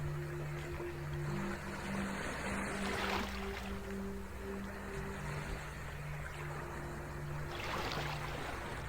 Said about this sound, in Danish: i baggrunden kan du høre bølgerne fra det store blå hav, der roligt skvulper ind over strandkanten